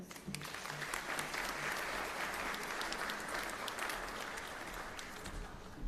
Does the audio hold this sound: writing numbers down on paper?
no